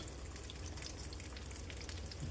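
Chilies fry in a hot pan on an electric hob with a soft, steady crackling sizzle and scattered tiny pops, quiet and unbroken throughout.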